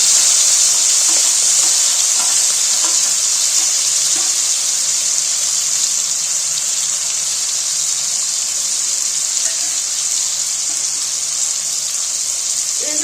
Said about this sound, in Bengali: এবার এর মধ্যে এই যে ম্যারিনেট করা যে চিংড়ি মাছটা সেটা আমি ছেড়ে দেব